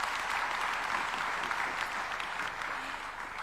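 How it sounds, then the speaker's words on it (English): A large audience applauds a speech at an official address at KICC, a soft, even wash of many hands clapping that sounds somewhat distant and stays steady throughout. "A big round of applause to His Excellency."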